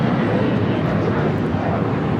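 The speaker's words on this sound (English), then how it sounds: "This is Delta Airlines 615 taking off to Cancun, 737-900ER." A Delta Boeing 737-900ER takes off at Los Angeles airport, its jet engines a loud, dense, continuous roar close by, with no talking over it.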